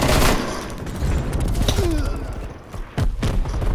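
Rapid automatic gunfire in the Call of Duty Black Ops Cold War video game, loud, close bursts of shots running almost continuously with a brief lull before the firing resumes.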